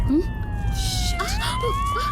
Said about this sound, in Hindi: पुलिस सायरन है, इससे लोगों को डराएंगे।